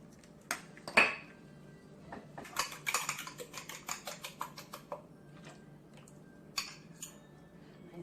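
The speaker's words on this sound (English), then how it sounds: "And I'm going to add my next egg." An egg cracked and added to a mixing bowl for cinnamon rolls. Sharp taps and light clinks against the bowl come in scattered clusters, with quiet gaps between them and no talk.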